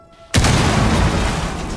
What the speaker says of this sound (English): it can be destroyed, and the explosion triggered by a frag grenade